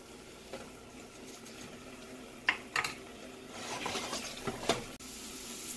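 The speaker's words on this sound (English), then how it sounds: "I've done a little light cooking with the roux inside" Butter and flour roux cooking gently in a pan for a mushroom gravy, giving a soft continuous sizzle broken by a few scraping stirs.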